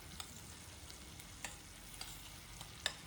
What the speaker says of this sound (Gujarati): તો આ ગરમ થઈ ગયું છે બટર. તો આપણે લસણ નાખી દઈએ.